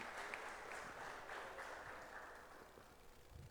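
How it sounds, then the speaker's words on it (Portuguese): A church congregation at a 10th anniversary service claps for the Lord, soft, distant applause washing through the sanctuary at an even level. "Você pode aplaudir ao Senhor por isso?"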